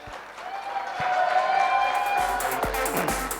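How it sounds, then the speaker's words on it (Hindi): Audience in a seminar hall giving loud applause, a sustained burst of many people clapping that swells and holds, mixed with some crowd noise and a few cheers. "ताली हो जाए जोरदार।"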